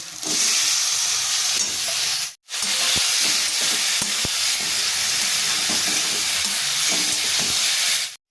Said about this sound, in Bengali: এঁচড়গুলো আমি পেঁয়াজের মধ্যে ঢেলে দেবো